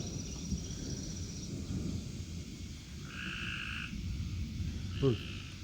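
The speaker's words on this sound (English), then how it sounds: "Those are tree frogs." Tree frogs croak at night during a storm, a steady chorus of rattling calls with a few higher trilling bursts, alongside a low rumble of rain or distant thunder.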